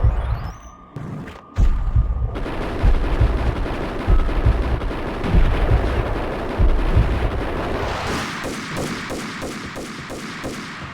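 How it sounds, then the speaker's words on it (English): Max Payne gunfight with a couple of sharp shots, then sustained heavy automatic gunfire and loud rumbling blasts, ending in a rapid regular volley of shots. "You can't be shooting at our officers"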